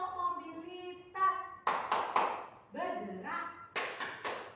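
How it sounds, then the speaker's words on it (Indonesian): A classroom clapping routine called tepuk mobilitas: sharp bursts of rhythmic hand claps in short groups, alternating with voices chanting or calling out between them. "saya kasih contoh namanya tepuk mobilitas"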